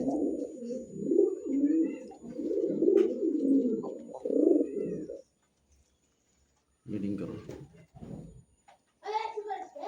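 Pigeons at a bird market cooing in low, throaty bursts close by, broken by a short pause, with people talking nearby.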